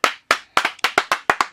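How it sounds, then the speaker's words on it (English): Nine sharp, evenly spaced hand claps ring out close and loud, each with a short decay, from a single person or small group, with no talk over them. "a round of applause to this brother right there."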